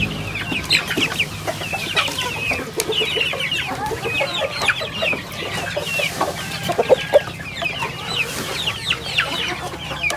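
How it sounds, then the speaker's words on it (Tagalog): Newly hatched chicks peep in dense, continuous high chirps, close and fairly loud, set in a rural Philippine backyard where adult chickens cluck faintly nearby. "paano ako mag-aalaga sa aking mga sisiw"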